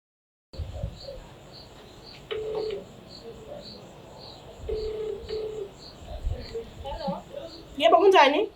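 Telephone keypad tones and ringing as a call is placed, faint and steady under a regular electronic beep, with a brief cluster of tones near the end while people talk nearby.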